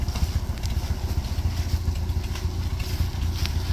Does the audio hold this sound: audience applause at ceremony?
no